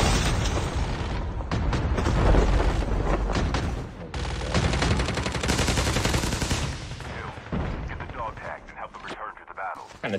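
Rapid video game gunfire in dense bursts, loud and close, stopping briefly before resuming with more automatic shots, mixed with a player's voice.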